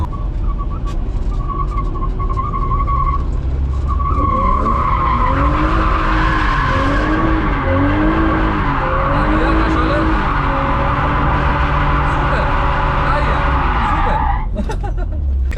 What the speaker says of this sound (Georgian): ანუ მე მინდა რომ ეხა ცოტა გახსნა საჭე და ცოტა გავშალო დრიფტი უფრო ლამაზი გამოგვივიდეს რა.